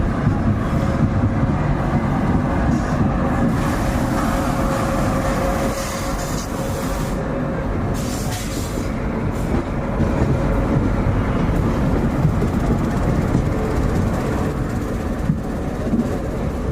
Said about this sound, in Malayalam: ഇപ്പോൾ എതിരെ ട്രെയിൻ പോകുന്നുണ്ട്